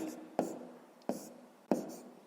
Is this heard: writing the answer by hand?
yes